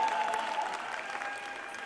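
A brief, steady round of applause from an audience at a Tetley Super Green event, fairly soft and continuous with no talk.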